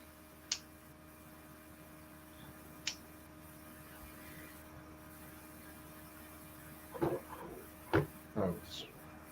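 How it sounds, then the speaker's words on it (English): Faint scattered taps sound in a quiet room: two isolated clicks a few seconds apart, then a tighter cluster of knocks near the end. "Can you hear tapping?"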